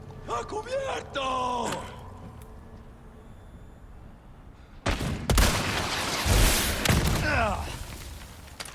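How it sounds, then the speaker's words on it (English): Gunfire in the Resident Evil 4 Remake video game: after a stretch of someone talking, a close volley of loud, sharp shots bursts out over about two seconds, followed by more speech. "Okay, I'm gonna headshot this fool."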